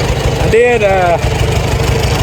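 A Farmall A tractor engine, just restarted after more than ten years unused, idles with a steady low rhythmic putter throughout, while someone speaks briefly over it.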